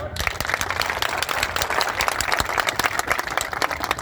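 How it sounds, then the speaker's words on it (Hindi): Applause from an audience at a spoken address, a steady patter of clapping hands with voices murmuring through it, moderately loud and continuous. "यदि मेरी बात आपको अच्छी लगी तो ताली बजाना"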